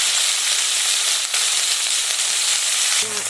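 Tomato hits hot spices and bay leaves frying in a pan, giving a loud, dense, continuous sizzle that carries on for the whole stretch with a brief dip midway.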